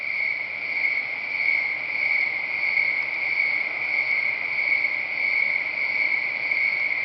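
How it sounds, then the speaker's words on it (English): Crickets chirp loud and steady at night at a tent campsite beside a Jeep, one continuous high trilling chorus with no break and no talk. "listen to the crickets here, they're crazy."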